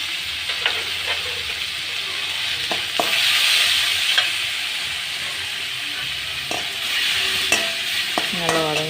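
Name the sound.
tomatoes sautéing and being stirred in a pan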